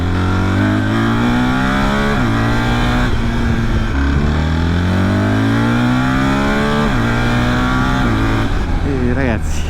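BMW GS 1300 Adventure motorcycle with ASA gearbox accelerating hard through low gears, a loud, close engine roar rising in pitch with repeated quick gear changes, accompanied by wind rush over the whole run.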